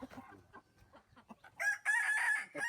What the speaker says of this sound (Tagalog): Daming manok ni Kuya Tiboy dito